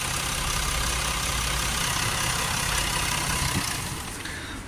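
A Range Rover 3.0 engine with an intake air leak idles steadily up close, a constant loud mechanical drone that tapers slightly at the end.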